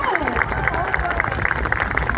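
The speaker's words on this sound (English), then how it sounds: "Can we give another big round of applause?" An audience at the Hersheypark seal show keeps up steady applause, a dense wash of many hands clapping together with crowd noise, loud and continuous.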